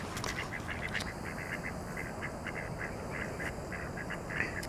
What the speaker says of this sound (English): We have the wild ducks just enjoying their time.